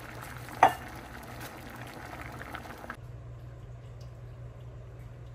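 A pot of gochujang and doenjang stew, seasoned with garlic and dashida, simmers at a steady, soft boil with a low continuous bubbling that drops to a quieter hiss partway through.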